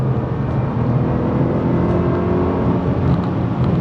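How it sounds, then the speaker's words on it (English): Car accelerating hard around an airfield circuit track, a loud sustained engine roar with a dense rising whir heard close up and alone. "we just feed it round nice and smooth, keep accelerating all the way down"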